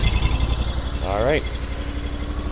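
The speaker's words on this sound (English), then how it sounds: "this particular unit is powered by a gasoline Honda GX690 engine" A gasoline Honda GX690 engine on a snowblower idles with a steady, close rumble, then briefly revs up and settles back, while someone speaks a few words.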